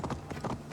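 Horse hooves clip-clopping at a steady canter in the Assassin's Creed Valhalla video game, a quick run of rhythmic thuds over a low game soundtrack.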